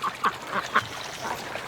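Ducks quack a few times in short separate calls at a moderate distance outdoors, with soft scattered calls between louder ones.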